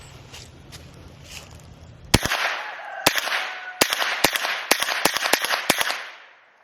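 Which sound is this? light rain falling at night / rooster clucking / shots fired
shots fired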